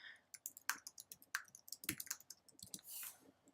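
Keys on a computer keyboard clatter as a search topic is typed, quick irregular close clicks ending in a brief longer rattle.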